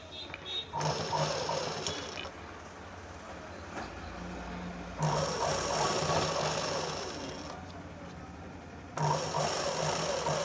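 A sewing machine stitches a boat-neck blouse with its lining cloth, running in three sustained bursts of steady mechanical whirring, separated by short pauses with low room hum.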